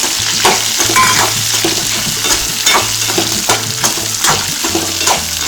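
Pearl millet being sautéed in a pan, a loud sizzle broken by repeated scraping and stirring strokes of a spoon against the pan in an uneven rhythm.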